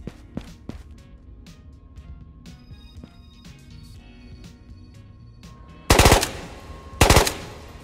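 A gun fires in the VR shooter Ghosts of Tabor as two short, loud bursts of rapid automatic fire about a second apart. They come after quieter clicks and handling sounds, close up, with no talking.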